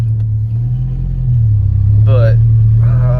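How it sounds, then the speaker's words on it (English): A Ford Ranger pickup engine idles with a steady low hum, loud and close, while a voice talks briefly over it near the end. "I hope my truck's not overheating"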